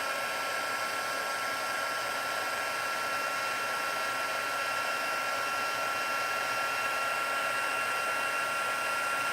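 A heat embossing tool blows steadily as it melts embossing powder on a handmade Stampin' Up! card, producing a loud, even hiss like a hair dryer that runs unbroken and close throughout.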